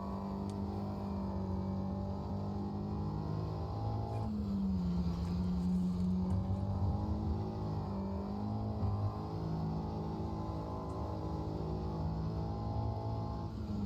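Simulated car engine in the Automobilista 2 racing game drones steadily, then its pitch jumps as the engine revs on a downshift before settling into a sustained, loud hum again, no talk.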